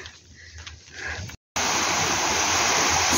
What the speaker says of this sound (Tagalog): malakas ang agos ng tubig sa ilalim